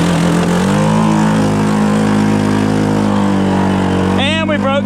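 A Honda 6x6 four-wheeler with a brand-new motor idles loudly and steadily up close, its low hum continuous, while a person talks briefly near the end.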